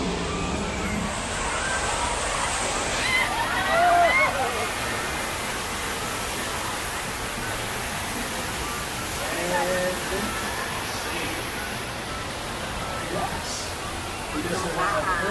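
Water gushing from a staged burst water main on a Hollywood studio backlot tram tour, a broad continuous roaring rush that stays loud throughout, with voices faintly mixed in.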